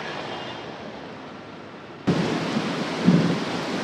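Steady rain on an outside coffee shop in Kuala Lumpur, with a heavier burst of downpour or thunder rumble coming in halfway and swelling near the end; no talking.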